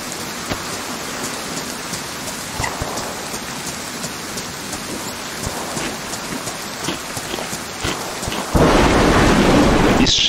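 Heavy downpour and rolling thunder from the survival video game DayZ, a steady wash of rain with several distant rumbles, swelling into a louder, denser surge of rain near the end, with no voices.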